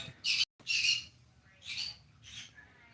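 Pet birds squawk for attention indoors in loud, harsh bursts, two close together and then two more spaced apart, with quiet room noise between them.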